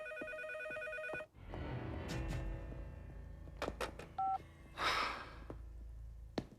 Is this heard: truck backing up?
no